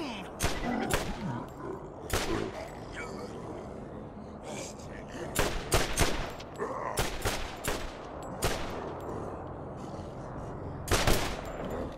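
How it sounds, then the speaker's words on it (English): Sporadic gunfire from the Borderlands video game, single shots and short bursts cracking out at irregular intervals over a busy game soundscape, with someone talking throughout. "Stagger him with one bullet and then headshot in the next one"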